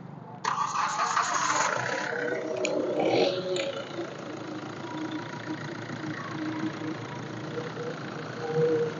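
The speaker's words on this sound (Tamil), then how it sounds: "இப்போ வண்டியோட இன்ஜின் சவுண்டை பார்த்தீங்கன்னா நம்ம லைவாக கேட்டுருவோம்." A Hyundai i20 diesel car engine idles steadily at close range, a low continuous rumble with a brief higher whine near the start.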